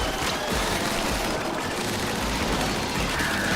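Dense, continuous battle din of rapid gunfire and booming explosions in Splatoon 3, loud and relentless throughout with no pauses.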